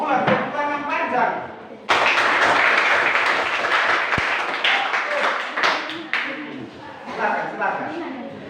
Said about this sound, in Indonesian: Ulang, tepuk tangan panjang.